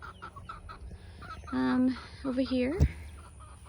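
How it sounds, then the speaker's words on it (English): Backyard chickens beside a home vegetable garden cluck in a few close, nasal calls, while someone speaks briefly over a quiet outdoor background. "It's our chickens."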